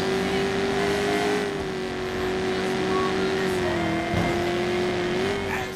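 A loud car engine in the video game Watch Dogs drones steadily throughout, its pitch rising and dipping slightly as it revs, with faint game background noise.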